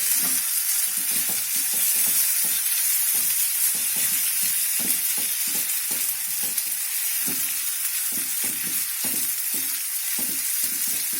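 Mango pieces for a mango thokku pickle fry in a generous amount of oil, a steady close sizzle throughout with rhythmic stirring strokes scraping the pan.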